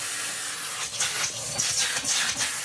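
Air rushing through the hose of a 2022 Numatic PPR370 commercial vacuum, a loud close hiss with wavering surges as the hose is handled.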